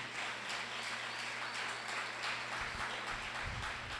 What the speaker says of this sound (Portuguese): Você pode aplaudir ao Senhor pela sua palavra